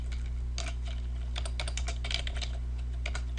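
Typing on a computer keyboard while writing web code, rapid irregular key clicks in quick bursts, close and clear over a steady low hum.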